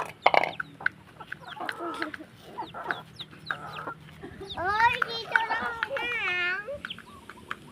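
Chickens cluck and squawk as they are fed outdoors, with a burst of excited clucking near the middle, while children's voices chatter over and among the birds.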